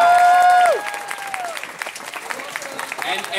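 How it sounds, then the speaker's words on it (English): A convention audience at Anime LA 2014 breaks into applause for the con staff, a dense wash of clapping that follows a fading tone and continues steadily to the end. "a round of applause for the con staff"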